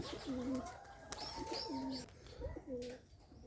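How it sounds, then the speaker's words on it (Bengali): Bombay pigeons coo in repeated low, rolling phrases close by, with a few brief higher chirps between them and no talk. "সাত জাগানোর পর দেখুন সব কবুতর তার উপরে বসে আছে, খোপে যাওয়ার জন্য চেষ্টা করতেছে।"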